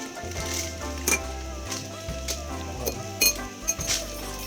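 A utensil clinks lightly and irregularly against a bowl while stirring lukewarm water, oil, salt and sugar for pizza dough, with soft background music underneath.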